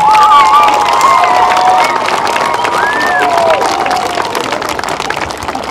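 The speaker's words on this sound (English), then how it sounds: "we should be given a nice round of applause to Mrs. Gestrich for all her hard work" Loud crowd of cheering, whooping and clapping at a school TV show, sustained and fairly close with shouts and whistles riding over steady applause, tapering slightly toward the end.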